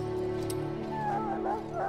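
An ill dog whining and whimpering in the Dragon Age: Origins video game, a thin rising and falling whine over a steady low background hum, brief and moderately loud.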